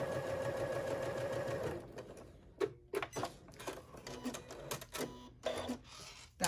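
A sewing machine stitches across a padded iPad case in several quick rhythmic bursts of mechanical whirring and ticking, each separated by short pauses, heard close and alone.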